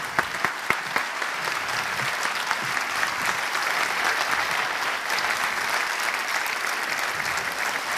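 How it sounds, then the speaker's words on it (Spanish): Sustained applause from a conference audience fills the hall, dense and steady throughout, with a few sharper individual claps standing out near the start and no speech over it. "un fuerte aplauso"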